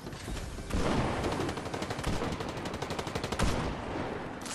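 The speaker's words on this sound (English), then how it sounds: "Drum shotgun." A drum shotgun fires in Fortnite, a fast run of loud, close, punchy blasts going nearly nonstop over game ambience.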